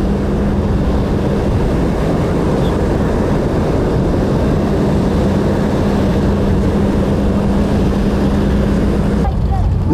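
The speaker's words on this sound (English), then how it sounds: "This is another shot of that big Airbus transport," A steady, loud roar of a large Airbus transport aircraft's engines with a constant low hum, droning on without break.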